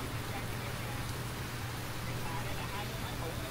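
Heavy rain pours down at Ben Thanh market in Ho Chi Minh City as a dense, steady hiss of downpour with a faint low traffic rumble beneath it, constant for the whole stretch.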